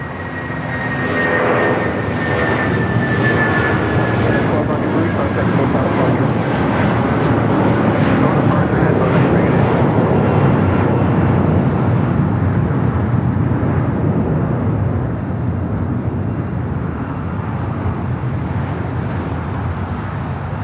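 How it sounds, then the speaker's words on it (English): A United Boeing 757 starts its takeoff roll on runway 25 right at LAX, its engines building into a loud, sustained roar with a whining tone that slides downward, heard from nearby. "United 757 already starting its roll down to 25 right."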